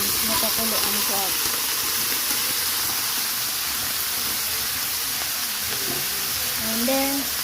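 Boiled crab sizzles after being returned to a hot pan, giving a steady, loud frying hiss with steam that runs throughout, overlaid with faint clinks and stirring.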